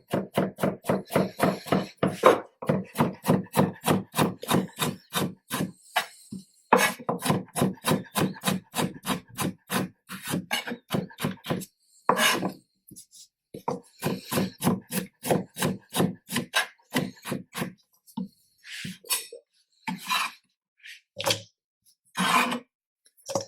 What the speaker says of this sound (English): First, we need to chop off the garlic.